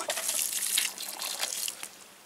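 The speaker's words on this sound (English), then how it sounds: "You could even put in a little water if you want." Water poured from a container onto a tomato plant set in potting soil in a cardboard box garden, giving a close, steady gushing splash for about two seconds that tapers off at the end.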